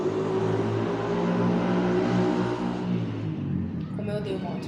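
A motor vehicle engine drones loudly nearby, its pitch shifting as it passes and then fades away. A voice speaks underneath.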